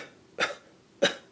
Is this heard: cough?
yes